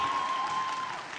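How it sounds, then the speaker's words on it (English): Graduation ceremony audience applauding the head boy at Victor Dixon High School, an even, moderately distant wash of clapping with a faint steady tone beneath. "Let's hear a bigger round of applause for him."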